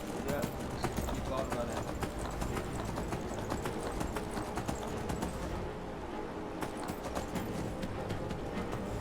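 Continuous hoofbeats of a horse being ridden in the virtual reality game Skyrim VR, a busy rhythmic clopping mixed with game sounds while a person talks throughout.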